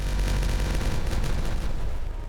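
A demolition blast in the beaver city-building game Timberborn, a loud, continuous rumbling explosion that fills the whole moment without any talk.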